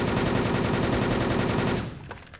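Dense automatic gunfire from an online shooter game, Wolfteam, rattling in a loud continuous burst that cuts off near the end, leaving a few faint clicks and quieter game noise.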